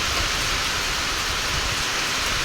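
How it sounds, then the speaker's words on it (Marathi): Heavy rain falls steadily and evenly, a dense wash of drops with no pauses. Nothing else is heard over it. "पाऊस जो आहे तो बंद व्हायचं नावच घेत नाही"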